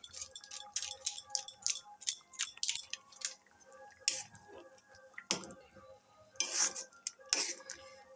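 Maggi noodles being stirred in a pot after adding Maggi masala, with a quick run of light metallic clinks and wet squishing scrapes, then sparser louder scrapes and knocks, close and alone.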